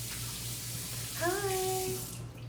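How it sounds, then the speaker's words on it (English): Hands are rinsed under a running kitchen tap, a steady close water hiss with a faint voice-like whine partway through. "I'm gonna rinse my hands."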